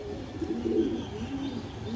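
A racing pigeon coos softly in low, rolling murmurs, faint and close against a steady background hum, with no voices present.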